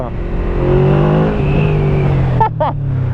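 A Yamaha V-Max motorcycle of about 200 hp revs loud and close, a steady deep engine note rising, with two sharp higher bursts near the end.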